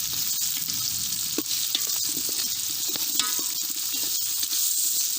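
Tomatoes and onions fry for a tilapia river fish curry, a close, steady sizzle with occasional spoon stirs and scrapes in the pan, no voices.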